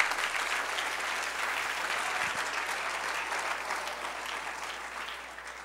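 A church congregation breaks into steady applause at an evangelistic service, a fairly quiet, even wash of many hands clapping that eases slightly toward the end.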